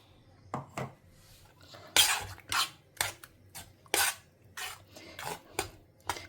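Ground paste being mixed into mashed greens in a pot, with spaced metal scrapes and knocks of a spoon against the vessel, close and distinct with quiet gaps between.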